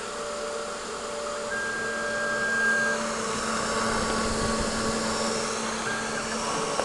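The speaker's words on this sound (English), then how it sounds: "turn the spindle on full blast and now we hit cycle start" A CNC router spindle runs at full speed, a steady, even whine with a faint high tone held throughout, close and continuous without talk.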